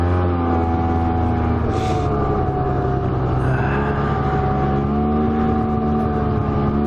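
A Yamaha Viper side-by-side's engine drones loud and close while driving through a field. The steady, throaty hum shifts slightly in pitch as the throttle changes, running continuously without any talking.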